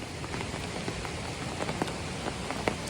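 Rain patters steadily on a hiking trail, an even wash of drops with occasional sharper taps on nearby surfaces, fairly close and without voices.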